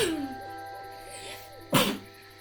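A single sharp sneeze bursts out near the end, loud and close, after a stretch of quiet room noise.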